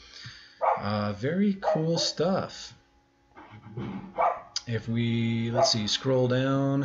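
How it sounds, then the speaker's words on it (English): A neighbor's dog barks repeatedly in the background while someone talks, the barks partly masked by his voice. "Sorry about the dog, everybody barking. It's my neighbor dog."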